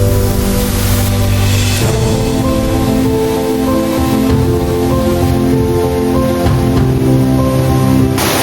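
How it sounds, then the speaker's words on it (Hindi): Water rushes continuously at Junani waterfall in Bargarh, producing a dense, loud and unbroken roar with no pauses. "इतनी सुंदर वाटरफॉल ओह माय गॉड कितना सुंदर लगा पूरा"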